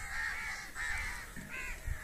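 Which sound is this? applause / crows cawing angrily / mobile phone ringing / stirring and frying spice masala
crows cawing angrily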